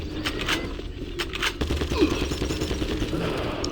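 Gunfire from enemies in the game Doom 3 crackles as scattered sharp shots and short rapid volleys, moderately loud over a low rumbling background, with no voices.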